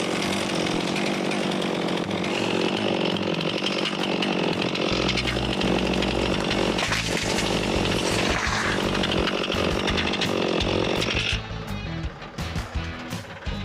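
Stihl MS362 chainsaw felling a hickory tree, its engine roaring loud and steady at full throttle for most of the stretch, then easing off near the end.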